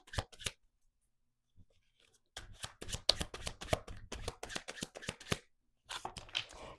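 Slippery tarot cards are shuffled close up in quick bursts of crisp riffling flicks, with short pauses between rounds and no speech.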